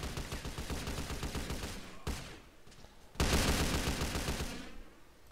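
Several players trade sustained rapid paintball fire in a SA-MP match in GTA San Andreas. The shots overlap in dense bursts, drop away briefly, then return as a louder, closer volley.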